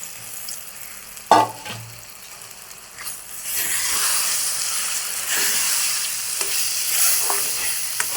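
Chickpea lentil paste fries in a pan as it is stirred, a sharp clatter at first, then a building, steady sizzle and hiss with occasional scraping strokes.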